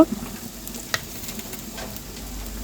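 Ginger-garlic paste with chili powder sizzling in hot oil for a village-style beef curry with bean seeds, a steady close fry with brief stirring scrapes and no talk.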